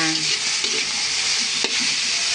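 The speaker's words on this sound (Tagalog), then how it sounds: "sinasangkutsa ko muna itong taba. Papalabasin ko po muna yung mantika niya." Pork fat renders in a hot pan for pakbet, making a loud, dense, continuous crackling sizzle close up with small pops.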